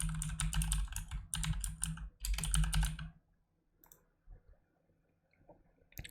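Password typed on a computer keyboard, heard as a close, rapid clatter of key presses in three dense bursts over about three seconds, followed by a few sparse, faint clicks and near silence.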